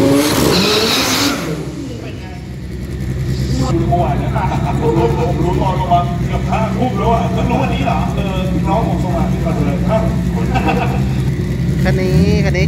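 Drag racing car on a Bangkok drag strip during Pro 4 front-wheel-drive qualifying, a loud sustained engine roar with revving and tire noise, an announcer talking over it throughout.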